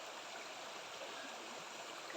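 A mountain stream in the Sierra Madre near Nakar, Quezon, running with rust-tinged water from a boggy area upstream, makes a steady, even rush of flowing water throughout, fairly faint, with no talking.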